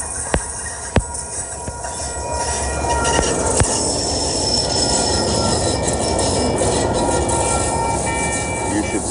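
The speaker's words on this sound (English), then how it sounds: "The rails are singing." Train wheels squeal and grind on the rails in a loud, steady, continuous roar, with a few sharp clicks in the first seconds before the rumble settles in.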